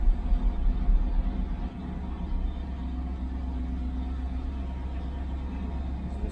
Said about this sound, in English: It's misfiring. Now it's clearing.